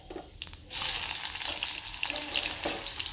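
Onions hitting hot oil spiced with panch phoron for khichdi, a loud, dense sizzle that bursts in after a quieter start and holds steady, with faint scraping of a utensil through the pan.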